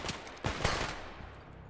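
Gunfire from a bandit's weapon in the shooter game S.T.A.L.K.E.R. GAMMA: a few sharp, loud shots in quick succession, each followed by a short decaying echo over a steady background rumble.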